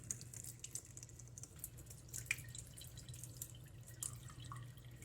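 Water drips and trickles while a Yak & Brew Tongba DIY brew kit is rinsed, making faint, scattered taps and splashes over a low steady hum, with no voices.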